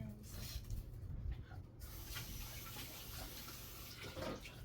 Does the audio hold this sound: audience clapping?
no